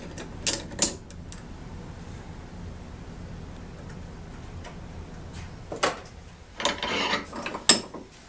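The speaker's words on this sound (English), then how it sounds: "I'm reaming out the end of the copper tubing." A reamer works the end of copper tubing for a frost-free faucet install, giving a few short scraping, ticking bursts separated by quiet stretches, close up with no talk.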